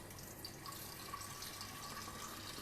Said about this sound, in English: And then I'm just going to pour out the juice.